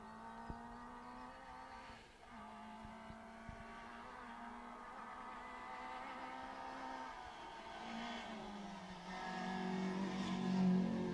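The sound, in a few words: Corsa rally car accelerating on a rally stage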